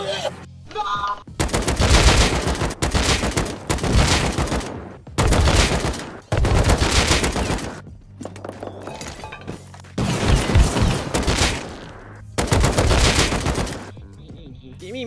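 AK rifle fire in the survival game Rust: several loud, rapid automatic bursts separated by brief gaps, each a dense crackling volley, close and dominant, with a voice speaking between them.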